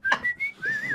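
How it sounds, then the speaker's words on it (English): A person whistles a short, wavering tune: one clear, pure tone that slides up and down for about a second, close and alone. "I'm concentrating on whistling."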